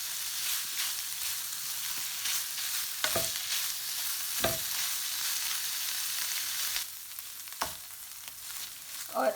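Mixed capsicums stir-frying in a little oil, a continuous soft sizzle broken by a few sharp spatula scrapes against the pan, with no one speaking.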